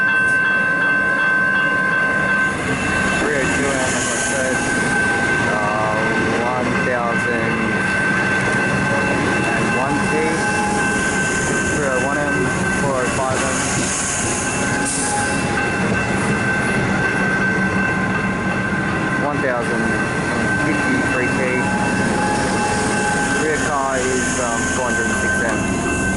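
A Melbourne suburban train, a refurbished Upfield line set, arrives slowly at a station, with a loud steady rumble, wheel clatter and a high whine throughout, and talk over it.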